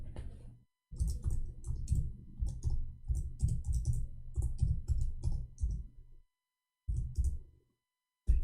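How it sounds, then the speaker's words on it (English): Fingers type on a computer keyboard in close, crisp bursts of rapid clicking, broken by short pauses and one longer silence before the tapping resumes near the end. "I'm typing in English."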